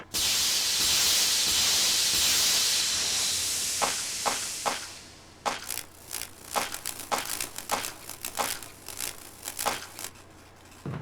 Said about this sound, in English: Insecticide spray. It's pump action spray.